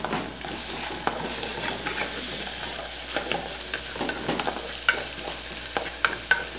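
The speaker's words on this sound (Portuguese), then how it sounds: "Aí aqui eu deixo dourar pouquinho, para que o alho não queime" Onion, garlic and pepper browning in a pan for a shrimp filling, heard as a continuous close frying sizzle broken by scattered spatula scrapes and taps that grow more frequent toward the end, no speech.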